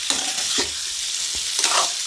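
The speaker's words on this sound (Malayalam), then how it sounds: "അപ്പം ഇങ്ങനെ ഒന്ന് ചെറുതായിട്ട് ഇളക്കി കൊടുത്തുകൊണ്ട് തന്നെ ഇരിക്കണം" Spiced baby potatoes sizzle in a pan while a spoon stirs them, giving a constant bright frying hiss broken by a few soft scraping strokes, close and clear with no talk.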